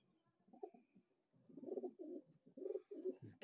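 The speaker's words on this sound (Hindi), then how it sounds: "ये मादा कबूतर है।" A female flower pigeon coos softly, with several low, rounded coos close by in a quiet setting.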